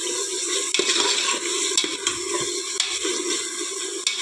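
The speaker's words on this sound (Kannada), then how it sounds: "ಇದು ಒಂದು ಸ್ವಲ್ಪ ಚೆಂದ ಮಿಕ್ಸ್ ಆಗಿ ಫ್ರೈ ಆಗಬೇಕು ಫ್ರೆಂಡ್ಸ್" A vegetable mixture for dill pulao fries and is stirred in a pan, giving a steady close sizzle broken by repeated scraping and clinking strokes of the spoon, with no talking.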